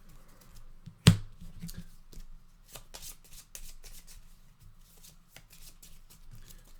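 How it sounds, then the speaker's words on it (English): A deck of playing cards for the Coin & Crown board game is shuffled on a tabletop in one sharp riffle burst, then soft card handling and faint rustling continue quietly for several seconds. "let's go ahead and just shuffle these up really quick"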